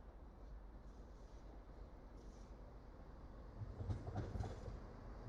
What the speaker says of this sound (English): Also arriving in now will be your 11:26 cross-country East Midlands Railway service from Lincoln Central to Crewe.